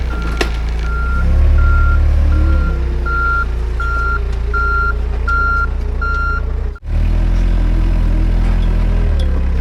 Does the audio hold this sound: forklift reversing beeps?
yes